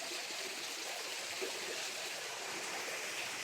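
A stream of water flows downhill in a steady, faint, hissing rush with no break, heard alone without talking.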